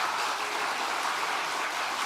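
Crowd applause from a party audience during a political speech by Megawati announcing PDIP regional candidates, a dense steady wash of clapping held at an even level throughout with no voices over it.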